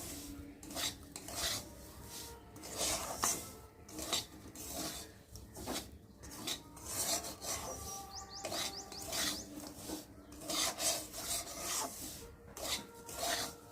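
Roasted semolina with turmeric is stirred in a pan, giving a continuous close raspy scraping of the spoon against the pan in quick repeated strokes with no talk.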